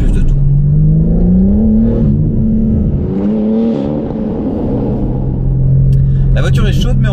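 A BMW M4 Competition G82 with a stage 2 tune revs loud and close, its engine note climbing, dipping and rising again, with a brief sharp burst near the end.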